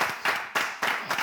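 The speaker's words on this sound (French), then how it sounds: "Merci beaucoup, Kana. On applaudit." Studio audience applauding on a broadcast show, three swelling bursts of close, dense clapping in quick succession.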